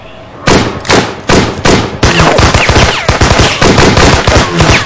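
Loud bursts of rapid gunfire in a film, several volleys of sharp cracks in quick succession, close and dominating, with brief gaps between bursts.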